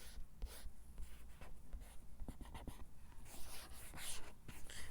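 A pen scratches out a short written answer for a math contest problem, quick faint strokes in an uneven rhythm over a quiet room background, with no talking.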